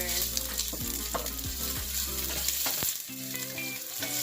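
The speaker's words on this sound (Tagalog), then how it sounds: "Lagay ko na yung ginger. Gusto ko golden brown yung ginger." Ginger sizzles in a pan for chicken tinola, a loud continuous frying hiss with stirring scrapes and a low background hum, close and without talk.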